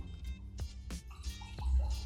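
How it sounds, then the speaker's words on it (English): Gin Society Handcrafted Blue Gin and a chaser being poured into glasses: short, close splashes and trickling drips of liquid, quiet and irregular, with no talking. "While we're pouring these"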